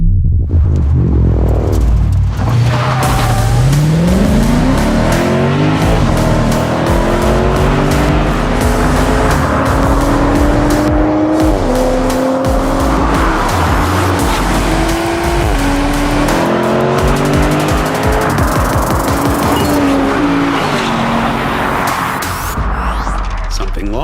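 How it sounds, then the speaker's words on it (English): A big V8 in a small sedan revs hard and accelerates, its loud engine note climbing steadily through the gears in a sustained throaty roar that fills the whole stretch. "This is a big V8 in a little sedan, and one blip of the throttle is all it takes"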